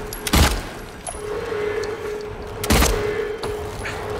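Two sharp, loud gunshots in the video game Silent Hill 2 Remake, about two seconds apart, each a broadband crack, over a steady hum with a faint click between them.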